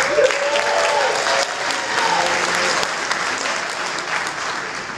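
A dinner audience applauds with sustained, dense clapping that holds steady for several seconds, fairly loud and close.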